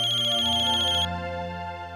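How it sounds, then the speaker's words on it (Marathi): A telephone rings with a bright electronic ringtone in a steady pulsing pattern. The ring is loud and close and plays alone at first, then continues more softly under a low musical tone. "अहो हे सकाळ धरणं फोन येत आहेत."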